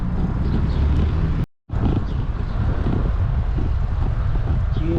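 Wind buffets the microphone on a cycling ride around the island of Montreal, a loud steady roar and rumble throughout with a brief cut, and a voice talking beneath.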